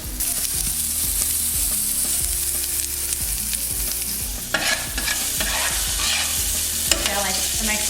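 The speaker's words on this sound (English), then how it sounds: "we're gonna add the diced jalapeno and the garlic to the pan. Stir that up" Diced jalapeño and garlic sizzle in bacon fat in a pan, a dense, close frying hiss under repeated scraping strokes of a utensil stirring the mixture.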